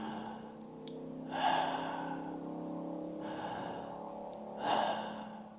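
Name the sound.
person demonstrating a way of breathing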